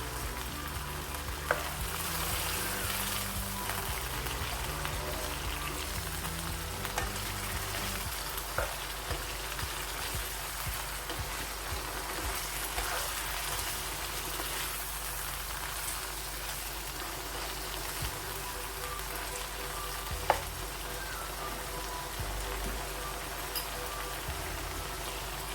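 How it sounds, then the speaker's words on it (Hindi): Garlic and ginger fry in a pan during chicken handi cooking, giving a steady, close sizzle that holds throughout with faint occasional clinks and no talking. "तो इसको भी हल्का सा हम इसके साथ ही फ्राई कर लेंगे, ताकि लहसुन अदरक की अच्छी तरह से खुशबू आए"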